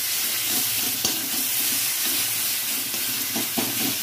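Ginger garlic paste fries in a pan with a steady, dense sizzle and hiss, and a utensil stirs it now and then in soft scraping strokes, with no talking.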